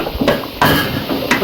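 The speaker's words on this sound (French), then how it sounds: "nous allons bien mélanger tout ça" Roast pork and white rice being stirred together in a pot, with a few sharp scraping clanks of a utensil against the pot between a steady, close, busy rustle.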